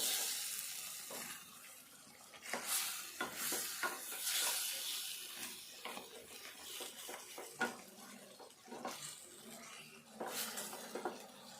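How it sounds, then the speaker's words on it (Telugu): Chicken pieces and onion are stirred in a pan, with scraping and clinking of a spoon over a soft sizzle, irregular bursts of stirring close up and no voices. "ఇదంతా కూడా కొద్దిసేపు కలుపుకొని"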